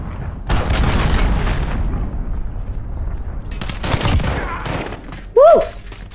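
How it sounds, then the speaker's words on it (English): A cruise missile strike in a first-person shooter game lands as a heavy, rumbling barrage of booms and gunfire, loud and sustained, followed by a brief whooshing electronic tone near the end. "Enemy cruise missile,"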